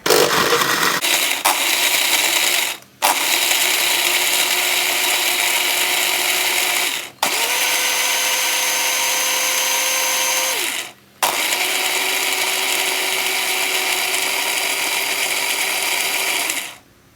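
Blender whirring loudly as it purées pickled garlic water with spices, with a steady high motor roar in three bursts, each cut by brief pauses, the pitch dipping slightly under load in the middle run; no talk.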